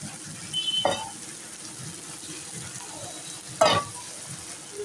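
Dal with turmeric and salt stirred in a pan while making Bengali dal pitha: a quiet low background broken by two brief, sharp scraping strokes a few seconds apart.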